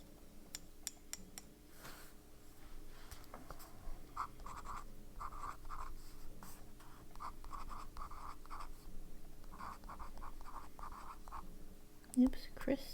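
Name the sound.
fountain pen writing on paper with Birmingham Pen Company ink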